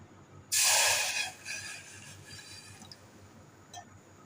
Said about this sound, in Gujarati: બે ગ્લાસ પાણી રેડીશું